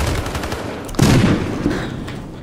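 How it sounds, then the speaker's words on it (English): M1A1 Thompson submachine gun fired in a video game, a rapid stream of automatic shots with a heavier, louder burst in the middle, close and punchy with no voices. "So, the M1A1 is what the gun is called in this game, not the Tommy gun."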